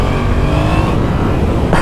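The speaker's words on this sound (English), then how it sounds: "this is a fun little motorcycle to ride hard and do wheelies" A 2017 Yamaha FZ-07 (MT-07) motorcycle engine runs loud and close, a steady revving drone that swells briefly near the end.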